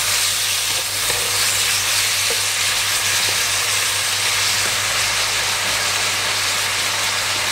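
Broccoli stir-frying in oyster sauce with a little sugar gives a loud, steady sizzle that runs the whole time over a low constant hum, with a few faint clinks of stirring.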